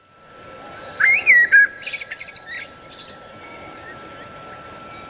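Birdsong alarm setting on a Stephen Fry alarm clock: one clear whistled bird phrase near the start, followed by a quick run of shorter chirps that fade out over a steady background hum.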